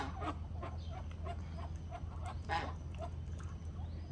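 Muscovy ducks, geese and a turkey squabble at a distance, letting out scattered honks and quacks over a steady low hum.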